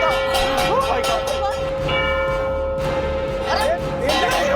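A wall clock's bell keeps ringing without stopping, a sustained metallic tone that rings on and on. Voices and indoor commotion can be heard around it.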